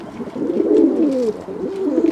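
Fantail and curved-tail pigeons coo in a loft, a steady, close, throaty rolling call that swells and dips in soft repeated phrases.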